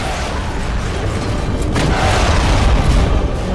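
Weapon fire and explosions from the video game Metal Gear Solid: Peace Walker, a steady loud boom-heavy rumble with mechanical creaks, continuous throughout without a voice.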